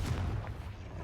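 In Hogwarts Legacy, a Confringo fire spell blasts on impact with a deep, rumbling boom that fills the clip, heavy at the low end and quieter than it is full.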